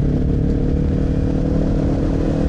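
A motorcycle engine drones steadily and loudly inside a tunnel, its low hum resonating with a boomy, enclosed echo.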